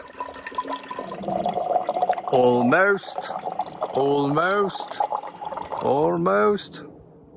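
Water pours steadily into a container with gurgling, while a person speaks in short bursts over it.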